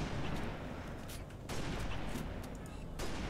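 Gunfire in the video game Halo Reach, a dense stream of shots and blasts that keeps going without a break, with a player's raised voice breaking in now and then.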